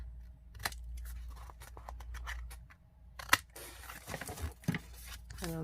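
Scissors snip through a paper tag on a scrapbook file folder in several short, close cuts, with faint rustling of paper between snips and no talk.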